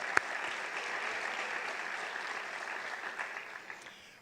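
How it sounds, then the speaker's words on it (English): An audience at the Hartzog Lecture at Clemson University applauds steadily for about four seconds, a dense even clapping heard from a distance at moderate volume that fades out at the end. "Let's give them all a round of applause."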